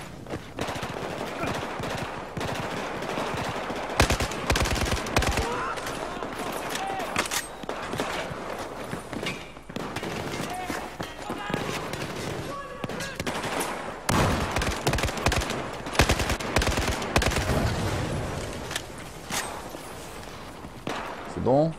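Rapid bursts of automatic gunfire in the video game Battlefield 4, dense and repeated throughout with louder volleys, under occasional talk.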